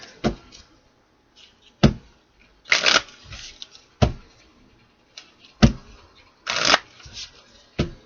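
A Kipper oracle card deck being shuffled by hand, with sharp riffles and longer rustling bursts repeating in an irregular rhythm, close and fairly loud, with no talking.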